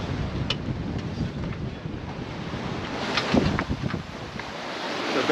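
Ocean waves and strong wind in the Gulf Stream during an offshore sailing passage, a steady broadband wash with wind buffeting the microphone and occasional louder surges of surf against the boat.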